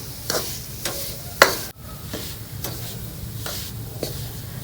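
Flour roasting in a pan for khoya pinni is stirred with repeated scraping strokes every second or so, under a soft continuous sizzle, up close with no talking.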